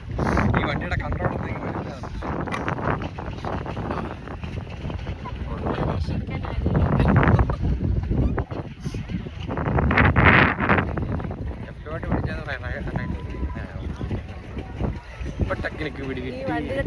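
A small boat ride on a lake at Vagamon, with a steady engine-like rumble, splashing water and gusty wind buffeting the microphone throughout, swelling at moments, while people talk over it.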